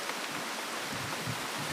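Steady rain falls outdoors while people wait for it to pass, a soft, even wash of broadband hiss with faint patter and no speech.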